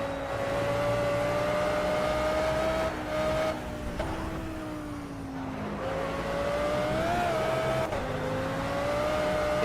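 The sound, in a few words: race car engine in a video game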